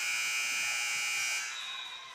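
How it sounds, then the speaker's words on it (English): A basketball game buzzer sounds at the end of a quarter, a steady electronic drone lasting about two seconds that drops in level near the end, with no talk over it. "That's going to be the buzzer."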